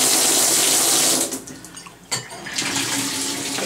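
Water gushes steadily from a massaging shower head in a hotel room, dips briefly as if adjusted, then resumes a strong continuous spray.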